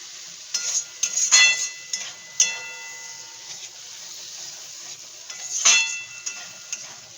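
Capsicum being stirred and fried in a pan: a soft steady sizzle under irregular scrapes and clinks of a utensil against the pan, a few sharper knocks standing out, close and moderately loud.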